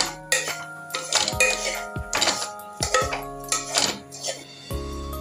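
Semolina, peas and carrots stirred together in a pan for buttermilk upma, a spoon scraping and clinking against metal in repeated strokes, close and fairly loud, with a short sizzle-like hiss at the end.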